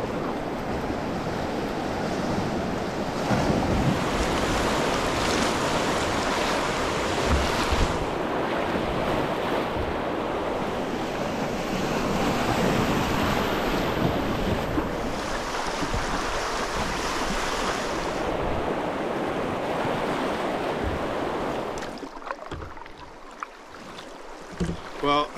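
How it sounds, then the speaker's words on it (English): Yukon river rapids rush and churn continuously at close range, with a broad roar of water and wind buffeting the microphone, before the sound thins out near the end. "But a bit of a rapid coming up"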